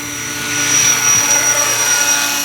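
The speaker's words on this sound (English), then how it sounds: "These helicopters are getting amazing" A JCZK Schweizer 300c Pro GPS RC helicopter drone flies nearby with a loud, steady whirring rotor drone and a high whine, no voices over it.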